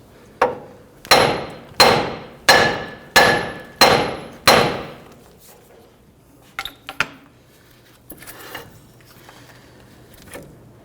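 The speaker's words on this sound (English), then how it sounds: "Now we're going to use a hammer and we're going to strike right here on the knuckle." A hammer strikes the steering knuckle of a 2007-2021 Toyota Tundra to shock the ball joint free. There are seven loud, evenly spaced metallic blows close by, then quieter clinks and handling noises.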